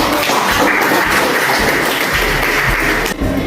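Audience applause fills a classroom-style group presentation gathering, a steady, dense wash of clapping from many hands that holds near and loud throughout before easing slightly at the end.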